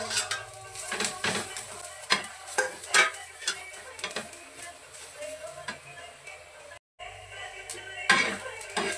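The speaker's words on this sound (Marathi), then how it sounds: "खोबरा आणि कांदा चांगला भाजून घ्यायचा" Onion and grated coconut dry-roasting in a pan for a drumstick pod curry, with a spatula repeatedly scraping and stirring against the metal over a soft, low sizzle. The stirring is steady and close, broken by one brief gap.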